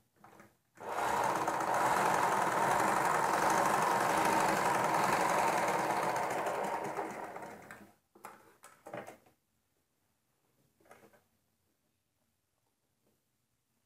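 A sewing machine runs steadily for several seconds, stitching a panel of a four-panel petticoat, with a loud, even whirring hum. It then stops, followed by a few short bursts of handling noise and near silence.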